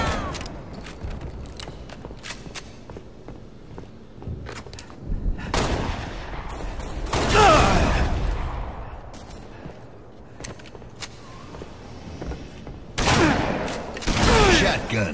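Shotgun blasts in a zombie-mode video game, several loud booming shots with ringing tails spaced irregularly across the stretch, among softer mechanical clicks and faint background noise.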